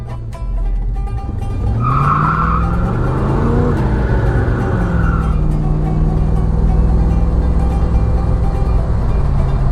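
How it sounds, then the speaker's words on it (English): Car with a loose throttle and recent leaks spinning its tires on wet pavement, a loud close engine rev with rising and falling squeal over a continuous roar. "Spin some tires good on that wet pavement."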